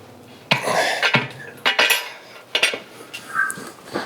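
A metal lid set onto a Spider Grills Huntsman grill during assembly, heard as a few sharp metallic clanks and knocks spread over several seconds, close and fairly loud, with lighter rattles between.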